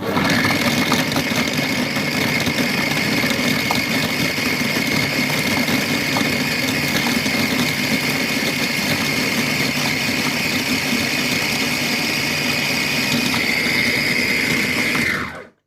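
A Compact Cook Pro food processor mixing spinach dough, a steady loud motor whir with a high whine running continuously for about fifteen seconds before cutting off abruptly.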